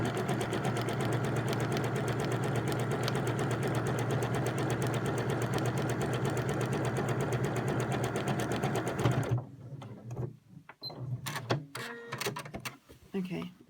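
A sewing machine stitches a buttonhole in a steady, rapid, loud mechanical run for about nine seconds, then stops, leaving sparse clicks and handling noises.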